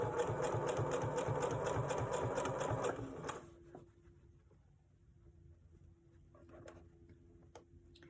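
Sewing machine stitching a wallet, a fast rhythmic mechanical chatter for about three seconds that then stops, leaving a quiet room with faint clicks.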